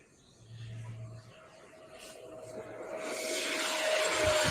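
An RC model Super Hornet jet before takeoff, heard faintly and at a distance at first, then a rising whoosh of engine noise that grows louder and nearer toward the end.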